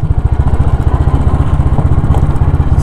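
Royal Enfield motorcycle riding on a road at night, its single-cylinder engine thumping in a loud, steady, close rhythmic beat with wind noise and no talk.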